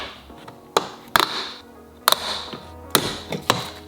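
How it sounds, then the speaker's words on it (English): Plastic door handle trim on a BMW interior door being pried loose with a trim tool, giving several sharp close taps and clicks spaced irregularly over a few seconds, with no one speaking. "Just take your trim tool and pry it off."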